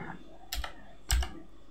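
A few quick keystrokes on a computer keyboard while installing macOS Ventura beta with OpenCore, in two short bursts about half a second apart, close and moderately loud with no talking.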